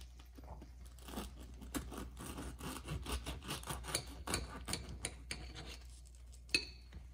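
A knife saws through the crisp breaded crust of a chicken Kiev cutlet with a rasping, crunchy scrape, repeated in short strokes at close range with no talking.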